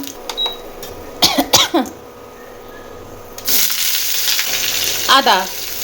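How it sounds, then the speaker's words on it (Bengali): Dried red chillies and five-spice seeds hit hot ghee in a pan, giving a few brief crackles and spoon clatters before a loud, steady sizzle swells up near the end. "শুকনো লঙ্কা ফোড়ন দিলাম, পাঁচ ফোড়ন দিলাম"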